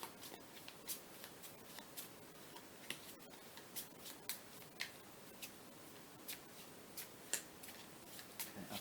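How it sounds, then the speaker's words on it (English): Quiet, rapid riffling of playing cards for the Marvel Champions card game, a soft flurry of clicks repeating through the whole stretch, with no voices. "We need to shuffle again."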